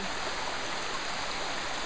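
Water-Break-Its-Neck waterfall pours in a steady, dense rushing hiss, continuous and fairly close, with no voices.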